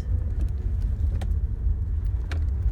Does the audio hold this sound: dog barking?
no